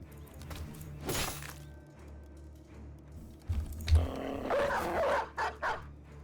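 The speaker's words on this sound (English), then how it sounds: "Where the hell is this dog?" A dog barks a few times, near and fairly loud, amid thuds and clatter, with a bark or two early and then a cluster of sharp barks toward the end.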